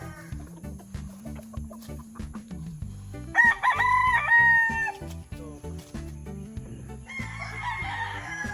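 A Larry Romero sweater broodstag rooster crows loudly in one drawn-out cock-a-doodle-doo near the middle, with clucking and other farmyard fowl calls before and after.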